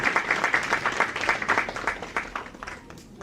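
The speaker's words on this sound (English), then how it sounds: "round of applause, all of you." A conference audience at a pharmaceutical sciences event gives a round of applause, the claps coming in a loose, uneven patter with distinct individual hand strikes, fading unevenly toward the end.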